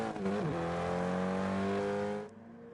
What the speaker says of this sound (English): As you hear the rumble of that little car